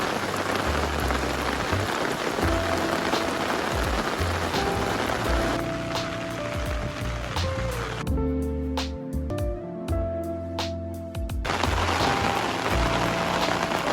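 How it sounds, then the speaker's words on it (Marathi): Steady rain falls on a mountain trek along Nakhind ridge, a constant near hiss of drops hitting surfaces that thins briefly in the middle before returning full. "पाणी पडतो. तर आता बघू, पाऊस उघडायचं वाट बघू."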